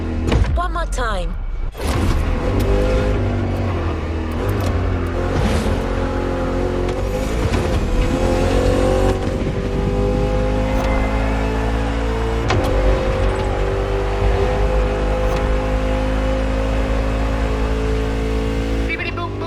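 A sports car's engine revs and roars continuously in The Crew Motorfest racing game, loud and sustained with shifting pitch throughout, mixed with game music and someone talking over it.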